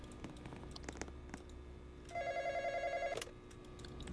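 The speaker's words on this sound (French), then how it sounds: "Le téléphone." Telephone ringing inside a Roblox night-shift smoothie shop game, a steady electronic ring pulsing for about a second over quiet game ambience.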